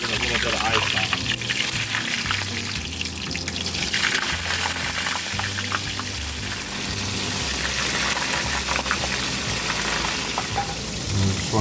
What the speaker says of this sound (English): you get the oil hot enough? Drop them in.